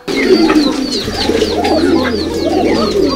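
Pigeons coo repeatedly in a house full of pigeons being raised, soft rolling calls overlapping close by with a steady low hum beneath.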